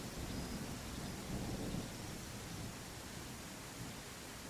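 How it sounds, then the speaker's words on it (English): Thunderstorm in the Viking village-building game Land of the Vikings: a steady, faint wash of rain with a low rumbling swell of thunder early on, alone with no voices. "it was interesting, that thunderstorm"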